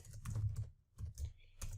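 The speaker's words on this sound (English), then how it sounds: "then you can start typing your blog post" Quick bursts of typing on a computer keyboard, faint and close, with clusters of key clicks separated by short pauses.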